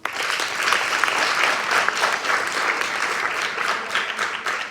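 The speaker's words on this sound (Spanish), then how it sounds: "tenemos con nosotros a Ana Bermejo, por favor, un aplauso." Audience applause at a Spanish talk on family and youth leisure, dense steady clapping from a seated crowd holding evenly for the full stretch without voices.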